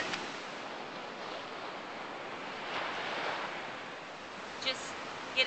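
Ocean surf makes a soft, continuous wash that swells and fades gently. It sounds fairly distant and faint, with a few brief gusty bumps near the end.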